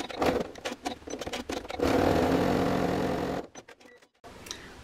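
A sewing machine stitches the closure strap of a fabric coin purse at about 2.6 stitch length, first in rapid stop-start bursts, then in one steady close whir before stopping.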